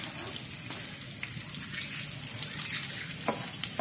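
Onions sauté in a hot pan for gisadong munggo with pork bits, giving a steady, close sizzle and crackle with occasional louder pops.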